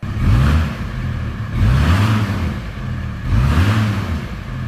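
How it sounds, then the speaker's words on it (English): A VW T4 van with a single-exit exhaust is revved three times in a row, each blip rising and falling in pitch, loud and close with a breathy, rumbling exhaust note between pulses. "So, this is what mine sounds like."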